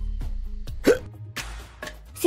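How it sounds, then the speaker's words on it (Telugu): A friend hiccups several times in quick, sharp bursts, close and clear with brief pauses between them. "మా ఫ్రెండ్ కి ఎక్కిళ్ళు వస్తున్నాయి"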